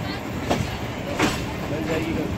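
A passenger train moving and switching tracks onto the main line in Pakistan, with steady rolling rumble and a few rhythmic wheel clacks over the points, heard close throughout.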